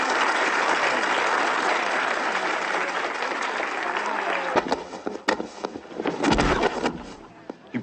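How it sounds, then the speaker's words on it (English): A crowd claps steadily and loudly for several seconds before the applause thins into scattered claps and a few voices. "don't I get applause?"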